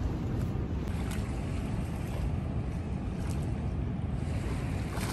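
A curiara dugout canoe travels on a river toward Salto el Sapo in Canaima, Venezuela, giving a steady close rumble of motor and water with wind buffeting the microphone throughout, no voices.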